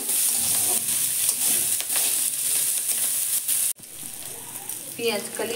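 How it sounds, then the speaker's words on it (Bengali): Chopped onions and kalonji frying in an oil-filled kadai, a steady loud sizzle with stirring scrapes, which cuts off briefly near the end and then resumes. "এগুলো একটু ভেজে নেব।"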